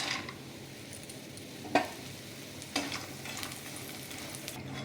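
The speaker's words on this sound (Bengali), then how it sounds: "কড়ায় আমি আবার একটু তেল দিয়ে নিয়েছি, সাদা তেল। এবার বড়িগুলোকে ভেজে নেব।" Lentil badi frying in white oil in a wok, a steady close sizzle with a couple of sharp stirring clinks, no talk.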